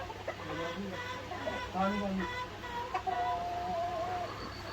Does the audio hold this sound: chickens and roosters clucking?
yes